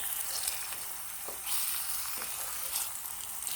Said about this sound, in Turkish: yumurtaları ve soğanları bu şekilde aralayarak bütün yumurtaların pişmesini sağlıyorum.